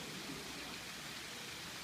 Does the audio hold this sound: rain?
yes